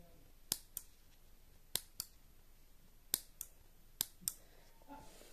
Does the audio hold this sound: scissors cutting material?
yes